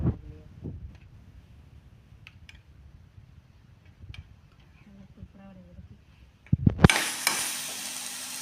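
A spoon scrapes and clinks in a pan of paneer gravy masala, with soft scattered taps, then a loud burst of sizzling frying near the end.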